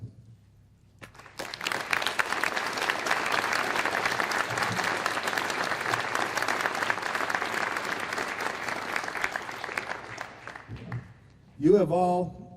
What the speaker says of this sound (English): give a round of applause to these parents that are out there